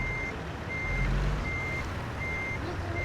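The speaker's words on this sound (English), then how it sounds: "The truck's really loud." A truck in American Truck Simulator rumbles loudly, while a reversing alarm beeps four times at an even pace over the engine drone.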